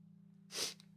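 A single sharp sneeze bursts out over a steady low electrical hum, then fades quickly.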